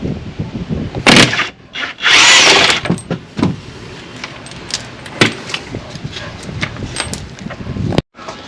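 Wrench and metal clatter while loosening the bolts that hold an electric power steering unit to the body of an older Honda Accord or Civic: sharp clinks, a burst of ratcheting or scraping, and irregular knocks close by.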